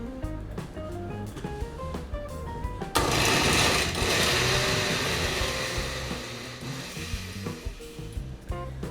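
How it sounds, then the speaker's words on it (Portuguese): An electric mixer beats carrot with oil for cake batter, a loud steady motor whir and grinding rising abruptly after a few seconds of background music, then easing slightly while continuing. "E vou começar a bater e depois eu acrescento o restante."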